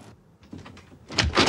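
A stubborn door is worked open, with soft rattles and thumps building to a louder scraping, creaking swing near the end, close by and without speech.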